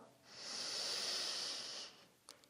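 A single deep inhale during a yoga breathing exercise, a long steady airy hiss that swells and holds for nearly two seconds before fading, close and alone, followed by a brief faint tap.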